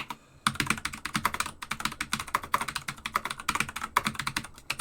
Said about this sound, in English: The furious typing noise.